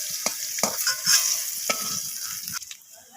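Pointed gourd (potol) sizzling in hot oil in a pan, with a steady frying hiss broken by several sharp scraping stirs of a spatula, close and loud, then fading as the pieces are lifted out.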